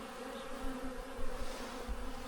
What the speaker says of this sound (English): there are so many bees.